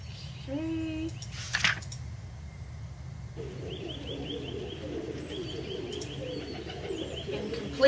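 Pigeons cooing in a video game park map, a run of soft repeated coos and chirps early on, then a steady bird chorus over a low ambient hum.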